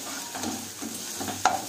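Ginger garlic paste sizzling in a pan with frying onions for chicken masala fry, a steady close hiss broken by brief stirring scrapes and a sharper clack near the end, no voices.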